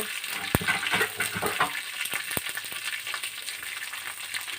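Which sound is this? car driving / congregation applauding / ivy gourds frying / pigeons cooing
ivy gourds frying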